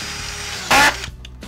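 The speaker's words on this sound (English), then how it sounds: "now I'm going to show how the corner fit works by driving a screw very close to an inside corner" A Senco DuraSpin screw gun drives a screw into drywall close to an inside corner, giving one short, loud burst of whirring under a low motor hum, then stopping.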